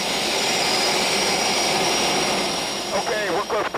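Jet aircraft engine running loud and steady before takeoff, a continuous roaring whine heard from inside the aircraft, with voices talking near the end.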